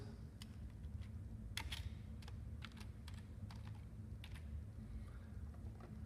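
Quick light keystrokes on a computer keyboard, a few irregular bursts of clicks, close and quiet over a faint steady room hum, with no voices.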